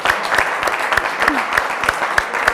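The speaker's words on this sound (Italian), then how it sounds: "facciamo un applauso alle Pro Loco" Studio audience applause for the Pro Loco teams on a TV quiz show, loud and close, with crisp individual claps in a brisk, steady rhythm throughout.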